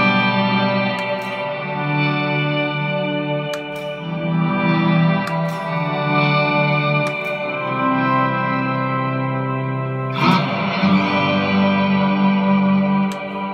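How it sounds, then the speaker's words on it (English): Electric guitar through a Blackstar ID Core combo amp, played with slow volume swells blended with an octaver, delay and reverb, producing sustained, layered tones that bloom and trail with echoes, with a fresh swell near the end; no talking. "Sounds even better with the octaver in there."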